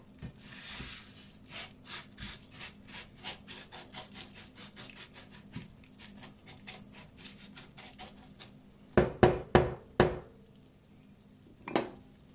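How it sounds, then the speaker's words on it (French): Bell peppers cook in a pan while a utensil stirs them in a steady rhythm of scraping strokes, quiet and close, ending in a few louder, quicker scrapes and one last stroke. "on va commencer par cuire les poivrons parce que c'est ce qui cuit le plus longtemps"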